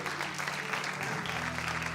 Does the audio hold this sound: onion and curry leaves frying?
no